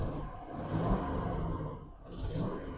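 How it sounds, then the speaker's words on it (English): An old cheap truck with a check engine light idles close by with a steady low rumble, a faint exhaust manifold tap buried in the engine noise, and a radio playing softly underneath. "You hear that exhaust manifold tapping just a little bit."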